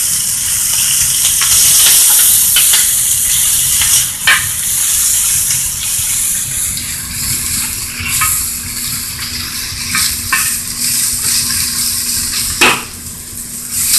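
Garlic, ginger and vegetables stir-fried in a pan for beef chow fun, a loud continuous sizzle broken by scraping stirs and clatters, with no talking.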